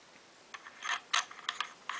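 A threaded part being screwed back onto the barrel of a B&T TP9 pistol: a short run of small metallic clicks and ratcheting scrapes, close and fairly quiet, spaced irregularly.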